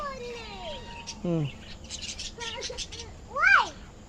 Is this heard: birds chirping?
yes